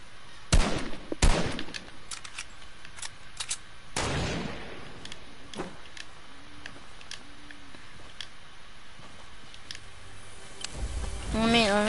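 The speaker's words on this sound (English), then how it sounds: "Gunshots from that side." Gunfire in the video game Arena: a few sharp, loud shots early on, then a heavier burst and scattered fainter cracks over steady background noise, with a soft sound rising near the end.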